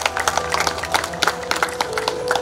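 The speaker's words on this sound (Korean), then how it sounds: "박수로 맞아주시기 바랍니다" An audience applauds at the opening ceremony of a history and culture park, with dense, steady clapping from many hands that carries on throughout at moderate loudness.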